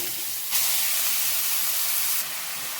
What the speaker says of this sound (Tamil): இதை இந்த நெய்யிலையே நம்ம நல்லா வதக்கிக்கலாம்